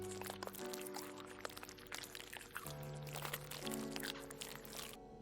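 In the Brewmaster beer brewing simulator game, an ingredient is poured into a tub with a soft, continuous rushing pour that runs for several seconds under steady background music.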